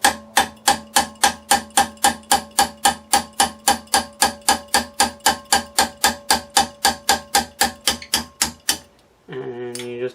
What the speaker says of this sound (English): Now I'm just going to take my punch with my itty bitty little hammer here.